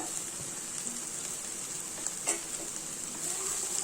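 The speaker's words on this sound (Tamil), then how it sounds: "இதையும் நல்லா மிக்ஸ் பண்ணி விட்டுக்கோங்க" Cauliflower sizzles steadily in hot oil in a pan as spice powder is stirred in, giving a continuous fry hiss with a brief scrape of stirring partway through and no talking.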